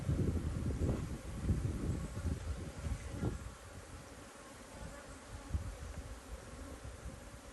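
Honeybees drone around an open, strong hive outdoors, a close, continuous low buzz with some wind rumble, louder at first and then easing.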